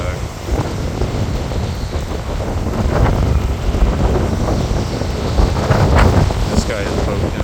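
Hurricane Helene winds gust in SW Cape Coral, Florida, rumbling and buffeting the microphone in a steady, rising roar near the water, while a person talks over it.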